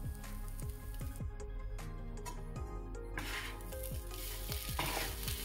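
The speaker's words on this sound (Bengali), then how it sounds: "এর থেকে বেশি আর আমি ভাজবো না" Paratha stuffing frying in a pan, a soft continuous sizzle broken by repeated scraping stirs of a spatula, close and fairly quiet.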